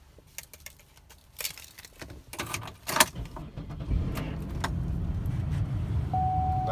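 A 2003 Chevrolet Monte Carlo SS with a leather interior: keys jangle and clicks sound inside the cabin, then the engine cranks and settles into a steady, fairly close idle for the last few seconds.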